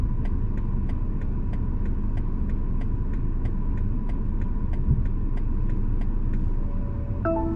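A 2020 BMW M235i Gran Coupe idles with a low, steady engine rumble while it automatically reverses into a parking spot, with evenly spaced faint beeps from the parking sensors throughout and a brief tone near the end.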